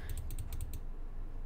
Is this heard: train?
no